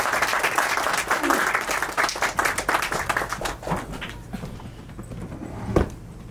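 An audience at an award show claps to welcome Anara Gupta on stage: a loud burst of applause that thins into scattered claps and fades after a few seconds.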